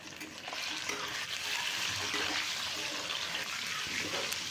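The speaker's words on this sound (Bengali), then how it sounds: "তো কড়াইতে সর্ষের তেল দিয়ে ডিমগুলোকে ভেজে নিচ্ছি" Duck eggs fry in mustard oil in a kadai with a steady, bright sizzling hiss that swells after a moment and holds evenly close up, with no talking over it.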